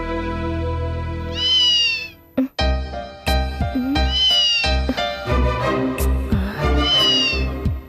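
A house cat meows three times in drawn-out, rising-and-falling cries, loud and close, with clattering domestic noises and thuds in between.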